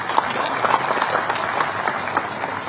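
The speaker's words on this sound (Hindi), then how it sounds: "इनके लिए ताली बजा दीजिए।" Students and guests at a university gathering in India applaud a group of honoured visitors, including students from France, in a short, steady burst of crowd clapping, fairly close and continuous.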